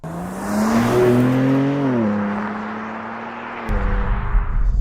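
A 2024 BMW M3 Competition Touring accelerates up through the revs close by, its engine tone climbing steadily, dipping briefly at a gear change, then settling before a rougher, louder rumble takes over.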